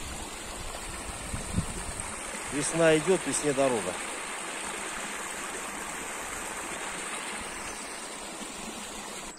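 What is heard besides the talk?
spring forest stream from melting snow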